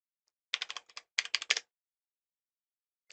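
Computer keyboard typing code, two quick close bursts of crisp key clicks separated by a short pause, then silence and a single final tap.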